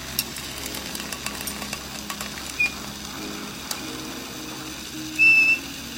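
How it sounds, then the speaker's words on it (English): Oxygen from a glassblowing torch whistles across the mouthpiece hole of a glass pipe, giving short high tones, a brief one and then a longer louder one, over a crackling, hissing torch roar. "You get the whistling from the oxygen blowing across the hole here at the mouthpiece"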